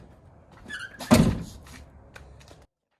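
A Jeep Wrangler JL door swings shut with one solid, fairly loud thunk partway through, preceded by faint rattling handling noises and followed by a brief quiet tail.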